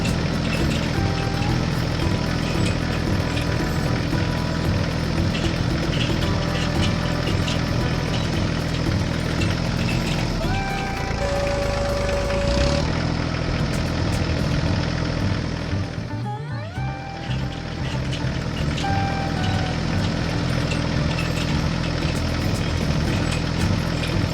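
A tractor engine pulling a cultivator through hard, compacted soil drones steadily at close range, a continuous heavy rumble with slight shifts in pitch and load.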